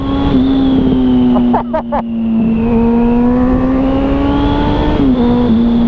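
A Suzuki B-King 1340 naked motorcycle accelerates hard, its engine holding a loud, close, rising whine with brief dips at each gear change, all heard from the rider's position.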